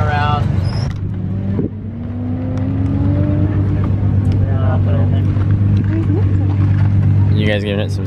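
Mitsubishi Evo cars at an autocross and drag event, a steady low engine drone with rising revs as one pulls away, close and loud, under people talking nearby.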